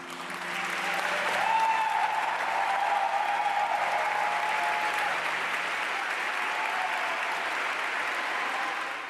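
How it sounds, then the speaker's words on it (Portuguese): Thunderous applause from a crowd of young people fills a Lutheran church, a dense, steady wash of clapping that holds loud and even throughout, with a faint tonal hum beneath at the start. "por aplausos estrondosos de jovens"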